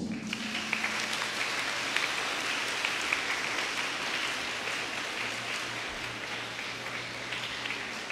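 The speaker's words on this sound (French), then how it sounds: "Nous les applaudissons." Congregation applauding the cooks at a school closing mass, a steady wash of many hands clapping throughout, dense and even like rain, with a low hum underneath and no speech.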